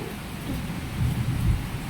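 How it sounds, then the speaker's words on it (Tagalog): Morning rain falls steadily with a low rumble of thunder swelling near the middle, a short continuous wash of storm noise with no voices. "Mm, ulan na umaga. Parang ulan."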